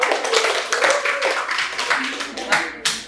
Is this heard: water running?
no